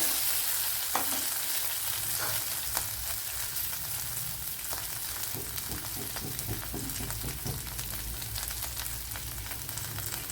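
Green chilies spluttering and crackling in hot coconut oil in a steel pan, a dense continuous sizzle with sharp pops scattered throughout, close and fairly loud with no talk.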